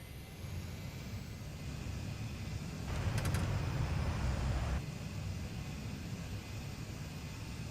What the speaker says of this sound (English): Good thing I got the thrust reverser on.